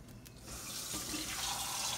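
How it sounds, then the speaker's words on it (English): Water poured into a pot of beef stew with tomato paste, a steady running splash that starts softly and grows fuller, close and alone without talk. "Add a little bit more water to this."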